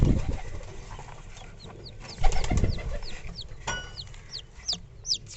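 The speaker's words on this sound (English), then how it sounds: "Actually this is Bantam chicken." Bantam chicken clucking inside a pigeon loft, a few soft clucks and short calls amid other bird chirps, close and moderately quiet with no talk.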